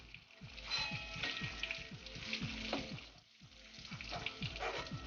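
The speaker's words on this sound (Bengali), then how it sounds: "পকোড়া ভাজা হয়ে গেছে, এগুলো আমি এবার তেল থেকে তুলে ফেলবো" Chicken pakoras fry in hot oil, a soft continuous sizzle and bubbling at low volume, with faint clinks of utensils beneath a low background hum.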